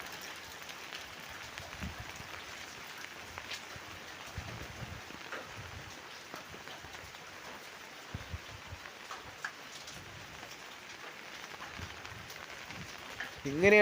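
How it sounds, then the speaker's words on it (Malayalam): Heavy rain falls steadily at Ambalavayal in Wayanad, Kerala, as a soft, even wash of patter with occasional sharper drips and splashes, fairly faint throughout. "കനത്ത മഴ ഇപ്പോഴും തുടർന്നുകൊണ്ടിരിക്കുകയാണ്."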